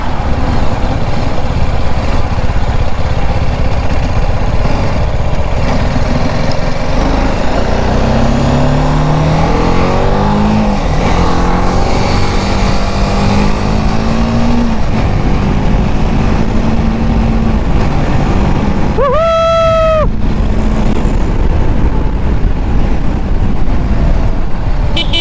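A BMW 310 GS adventure motorcycle engine runs steadily at low RPM while riding, a loud continuous drone with wind rush, shifting pitch slightly, plus a brief high whistling tone near the end.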